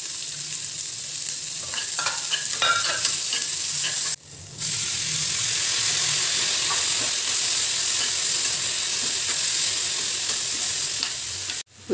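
Onion, garlic, rock salt and curry leaves sautéing in a pan for tomato garlic chutney: a loud, continuous sizzle and hiss of frying, with stirring scrapes and clinks in the first few seconds, briefly cutting out twice.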